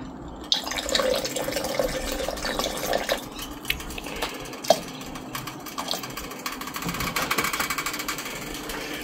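Gold shrapnel fizzes in nitric acid and water, a soft steady bubbling and faint crackle close by under low background hum, without speech.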